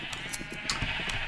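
Sheep bleating in Minecraft near a wood-floored castle area, several short repeated bleats coming through at a steady moderate level with no talk.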